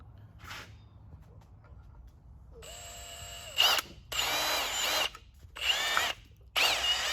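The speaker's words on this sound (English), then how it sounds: "You can run a higher drill speed because this is aluminum." Power drill boring into an aluminum engine mount, a motor whine rising to speed, then several loud grinding bursts of bit cutting metal separated by short pauses, close by.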